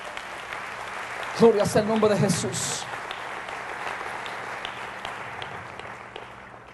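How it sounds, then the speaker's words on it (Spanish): A church congregation applauds in a soft, diffuse wash of clapping while someone speaks in Spanish over it, and the clapping fades and thins as the talk goes on. "Dale un fuerte aplauso a Jesús por esa verdad."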